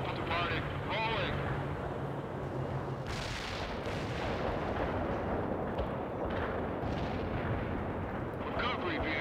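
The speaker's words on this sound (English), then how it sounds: "Fall back now, Parker. That artillery is closing in." Artillery in the video game World in Conflict lands in repeated booming blasts and rumbles, some near and some far, with radio-style voices talking over the barrage.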